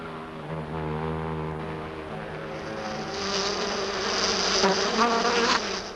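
Mesopotamian bees make a close, dense buzz that starts low and swells brighter and louder midway, holding steady without voices.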